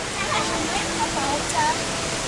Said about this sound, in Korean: 자 여러분 드디어 실버 폭포에 도착했습니다